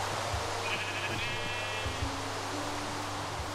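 Sheep in the Minecraft video game give a single drawn-out wavering bleat, clear over steady background noise, with soft low thumps beneath.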